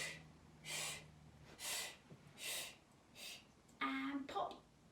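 Deep breaths of children and a teacher in a dance lesson, several long airy inhales and exhales in a slow steady rhythm, close and clear, with a brief vocal sound near the end.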